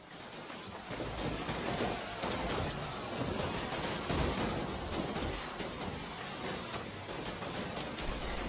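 Heavy rain pours steadily in a cartoon scene, a dense, broadband hiss of downpour that stays loud and unbroken throughout with no voices.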